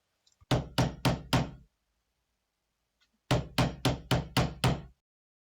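Two bursts of firm knocking on a door, four sharp raps, a pause of silence, then six more, close and loud.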